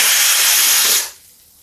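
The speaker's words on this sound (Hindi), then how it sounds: "तेल कम है फिर भी हम इसको धीरे धीरे करके ऐसे पका लेते हैं।" Ginger, onion and green chili frying in a little oil, a steady loud sizzling hiss that cuts off and fades after about a second.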